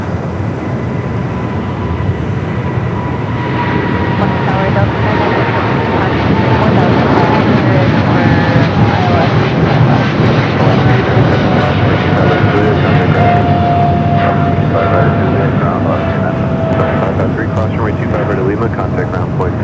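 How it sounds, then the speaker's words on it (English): A Singapore-bound DHL Boeing 777 freighter takes off on runway 25R at Los Angeles International Airport, its loud, steady jet engine roar building and holding for the whole stretch, with a voice talking over it. "we got that Singapore DHL 777 freighter now rolling down"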